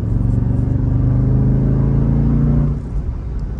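Loud, deep engine rumble held steady with a throaty growl, then easing off near the end, close by and without talk.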